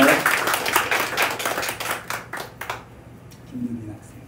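Congregation clapping at a baptism during a Sunday morning church service, a burst of close applause fading out after a few seconds, with voices around it.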